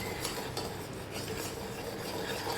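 Jaggery boiling in a pan on a gas stove is stirred steadily, a continuous scraping rasp against the pan bottom with soft bubbling underneath, close and moderately loud throughout.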